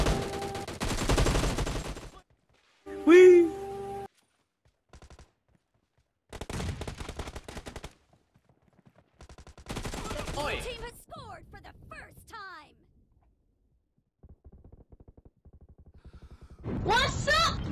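Bursts of AKM assault rifle fire in a video game, several rapid volleys separated by pauses, loud and close, with players talking and exclaiming between the shots.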